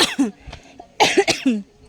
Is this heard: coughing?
yes